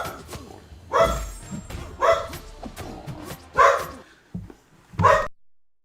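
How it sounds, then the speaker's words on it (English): A dog barks about five times in uneven spacing, sharp and fairly close, with some softer yips between. No one talks over it. "Friggin' dog barking at nothing."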